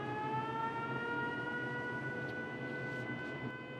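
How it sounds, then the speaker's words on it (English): An alarm siren blaring inside the game Fallout 4 at an Enclave outpost by a boathouse, a sustained steady wail with layered tones holding loud and unbroken throughout. "Uh-oh, it looks like our siren went off."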